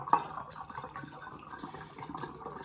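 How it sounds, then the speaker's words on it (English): Tap water runs into a bottle, a faint steady trickle and splash with a soft gurgle near the start, continuing quietly throughout. "I'm just gonna get some water into my bottle here"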